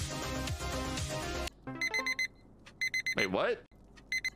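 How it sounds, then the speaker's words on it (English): An in-game alarm clock in a rapper-themed video game rings in short, evenly spaced electronic beep bursts after a stretch of music, while someone talks briefly over it. "To close the alarm, press E."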